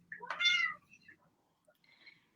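A small female cat gives one clear, fairly close meow, followed by a fainter, shorter second mew, with quiet room sound around it and no talking.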